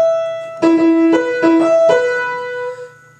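An electric guitar picks a short phrase from the intro riff of a song, a few clean plucked notes ringing out in a steady rhythm and then sustaining, close and fairly loud, with no talking.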